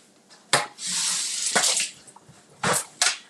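Tap water splashing onto a dollar store tray being rinsed at the sink, bursts of running water broken by a few sharp splashes and clunks, close and fairly loud.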